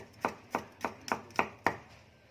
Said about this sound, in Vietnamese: Sắc hành và tỏi như vậy